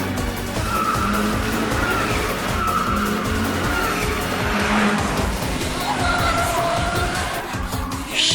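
Race cars in the Initial D arcade racing game slide through a corner on a bridge with tires squealing loudly and continuously over roaring engines.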